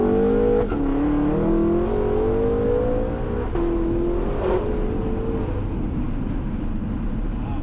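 A BMW F10 M5 with an MHD tune pulls and revs, its engine note climbing and dropping in smooth sweeps as it shifts, with a steady exhaust drone heard close from the cabin and no talking.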